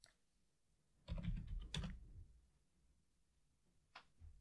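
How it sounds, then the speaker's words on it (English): A short burst of quick keystrokes on a computer keyboard, close and crisp, then a pause and a couple of final taps, typing a command into a server terminal. "So just type yes."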